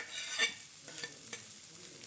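A potato bonda mixture with curry leaves, coriander, chilli and ginger paste is stirred with soft, quick scraping strokes, quiet and close, a few brief swishes in a row.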